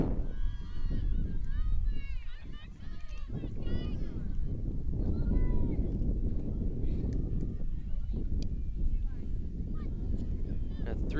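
Gusty wind buffets the microphone in a low continuous rumble across an open field at a women's ultimate frisbee game, under constant commentary and distant crowd shouts.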